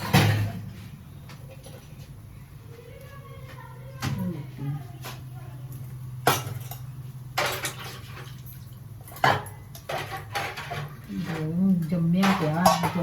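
Ceramic dishes and pots clink and clatter as they are washed, handled and stacked in a home kitchen, with sharp intermittent knocks over a steady low hum, while someone talks throughout.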